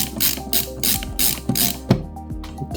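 Screws being unscrewed to open a Sonic 3 Mega Drive cartridge: rapid ratcheting clicks in repeated bursts from a nearby screwdriver, followed by a sharp click and a few scattered mechanical ticks.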